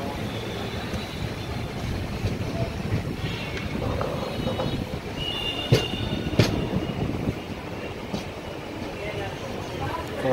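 The Cholan Express rumbling into platform one at an Indian railway station, a steady close roar of wheels and carriages with occasional clanks and a brief squeal, while someone talks over it.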